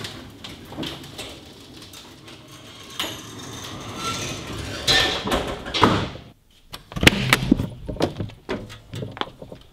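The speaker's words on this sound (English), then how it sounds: "I'm gonna shut both doors here on the race trailer." Doors on a sprint car race trailer are shut, with scraping and a heavy closing thud, then a series of sharp knocks and clatters, loud and close, with no talking.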